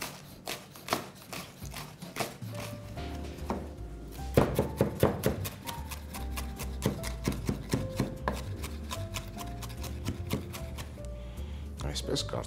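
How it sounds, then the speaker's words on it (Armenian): Knife chopping parsley and dill finely on a board for Tatar dumplings, a fast run of steady close taps over continuous background music. "Մանր կտրատում և ավելացնենք խճողակին"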